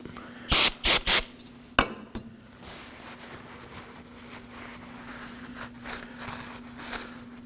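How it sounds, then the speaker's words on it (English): An aerosol cleaner is sprayed onto a Nissan Sentra steering knuckle in a few loud, sharp bursts at close range, followed by metallic clinks and quieter rubbing over a low steady hum. "Then I'll use a rag and spray clean to clean it up."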